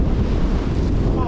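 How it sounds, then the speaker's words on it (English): Strong gusting wind of up to 30 knots roars around a sailboat beating to weather in a near gale, with waves washing over the boat, forming a loud, continuous, rushing roar with no break. "even in these strong winds, it's gusting up to 30 knots and the waves are coming over the boat"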